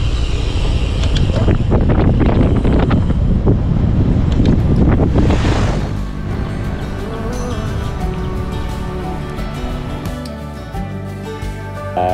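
Strong wind roars against the microphone of a cyclist riding a long road tour across Java, loud gusty buffeting for about five seconds, then easing into a softer steady rush with faint tonal background sounds.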